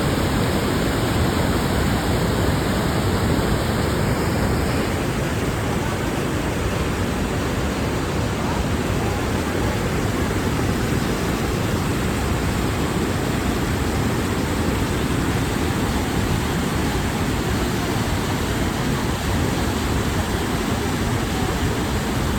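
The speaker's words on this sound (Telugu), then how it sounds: "ఇక్కడ నుంచి పారుతున్నటువంటి జలపాతం ఇక్కడ నుంచి ఇక్కడ." A waterfall in flood at Kamareddy pours steadily, a dense, loud, unbroken roar of rushing water that fills the whole stretch without pause or voices.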